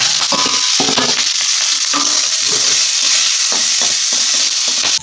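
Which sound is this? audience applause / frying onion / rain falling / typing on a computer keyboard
frying onion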